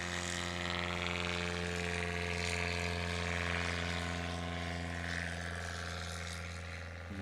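A STOL aircraft's propeller engine drones loud and steady, with power being applied for a short takeoff at a competition. The harmonic roar holds for several seconds and eases slightly near the end.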